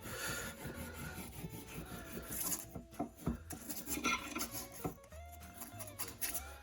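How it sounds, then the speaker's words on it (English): Hand sanding with 600 grit sandpaper on a Christmas diamond painting pen, producing a continuous close rasping rub with uneven strokes and small pauses, fairly quiet overall. "600 grit sandpaper."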